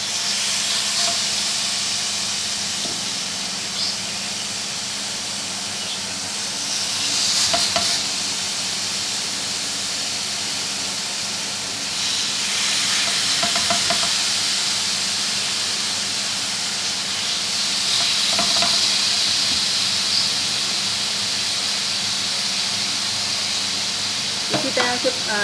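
Chicken pepper steak pieces fry in a pan with a steady, hissing sizzle, swelling briefly at a few moments as pieces are pressed or moved with a wooden spoon.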